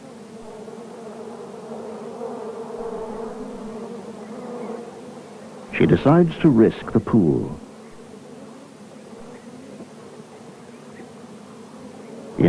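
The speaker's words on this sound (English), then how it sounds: "She tries a pit, but finds it full of bees." A swarm of bees buzzes around a water pit in hot savanna country, the droning loud and close for a couple of seconds midway, while a narrator speaks over a low background hum.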